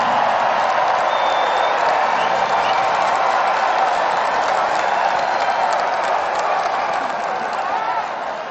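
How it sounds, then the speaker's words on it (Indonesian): Large audience applauding steadily at a GSN event, a dense, even wash of clapping from many hands that carries on at full strength for several seconds and fades only slightly toward the end. "kok tepuk tangannya paling keras nih"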